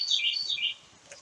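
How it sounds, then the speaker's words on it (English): A small bird chirps in a quick run of bright, high warbling notes, fairly close and clear, trailing off into quiet with one faint final peep. "Lovely bird."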